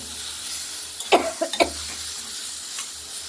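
A soft, steady sizzle of bitter gourd and pumpkin frying in a pan, with a few brief clinks and scrapes of stirring near the middle.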